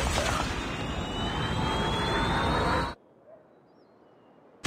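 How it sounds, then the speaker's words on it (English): A predator missile in the Call of Duty video game roars in as a loud, dense rushing whoosh for about three seconds, then cuts off abruptly into near silence. "UAV online. Friendly hunter-killer drone deployed. Friendly predator missile"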